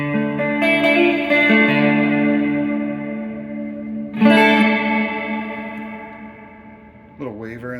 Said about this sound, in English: Let's turn that modulate on.